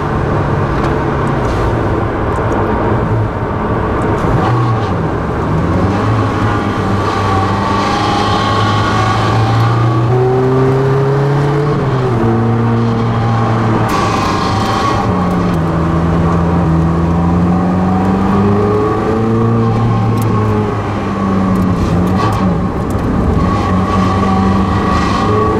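Engine of a new Stratos sports car accelerating while driving, a loud continuous drone whose pitch climbs and drops repeatedly through gear changes, with heavy road and wind noise.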